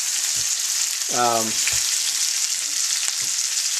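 A bacon-seared chuck roast sizzles steadily in a hot pan, a loud continuous hiss of frying fat running the whole time with a brief tonal clank partway through.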